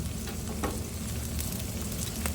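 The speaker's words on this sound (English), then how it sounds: "Bacon is on." Bacon sizzles on a hot Blackstone griddle, a steady close crackle and hiss with scattered pops and no voices.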